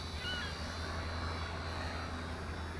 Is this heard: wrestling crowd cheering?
no